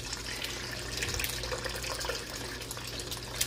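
Water from a tap runs steadily into a bowl of grains set to soak for sprouting, a faint, continuous splashing trickle over a low hum, with no talking.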